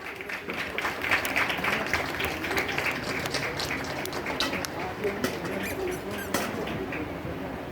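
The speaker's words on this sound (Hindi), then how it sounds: "एक बार जोरदार तालियां बजाइए।" Crowd applause at an outdoor Independence Day event with police dogs on display, a long steady patter of clapping from many hands, moderately distant, with birds and other background sounds mixed in.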